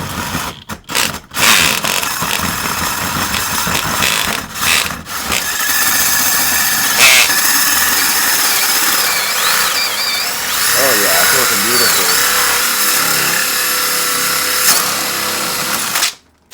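A loud power drill whirs steadily for most of the clip, boring a large hole in a roof, its high grinding motor running nearly nonstop after a few short starting bursts.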